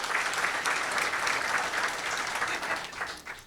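An audience at a State of the City chamber event claps steadily, a dense, even wash of applause from a seated crowd, heard from a moderate distance and tapering slightly toward the end.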